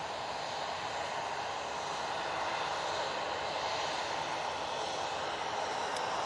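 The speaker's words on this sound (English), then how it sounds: "Ryanair departing now" A Ryanair jet airliner departs Manchester Airport with a sustained, even engine roar at a moderate distance, unbroken and without talk.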